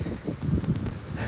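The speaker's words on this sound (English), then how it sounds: "Oh, I didn't know it was so windy." Gusty wind on a walk in the outskirts of Kampot, Cambodia, buffets the microphone in low rumbling bursts, steady and close, with no voices over it.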